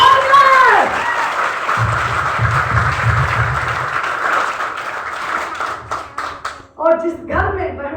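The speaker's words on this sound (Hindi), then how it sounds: "एक बार हमारे सभी पुरुष भाई हमारी महिलाओं के लिए ताली बजाएंगे।" A crowd at an RCM meeting applauds in a sustained wash of clapping that swells and fades over several seconds, with a speaker's amplified voice heard before and after.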